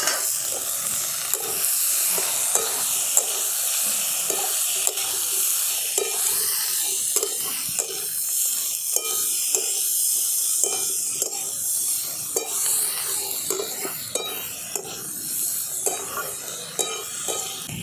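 Fried yam, potatoes and prawns stirred in a spiced masala, a continuous loud sizzle with repeated scraping and clinking strokes of a spoon against the pan throughout.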